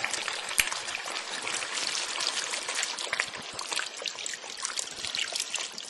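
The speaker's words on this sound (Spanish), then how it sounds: "Le añadimos un poquito de agua." Water pours in a steady trickle into a casserole of roast lamb with white wine and oil, a continuous close splashing stream lasting several seconds.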